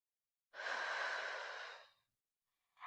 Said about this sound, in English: Take an inhale. Exhale as you lift up. Exhale as you lower down.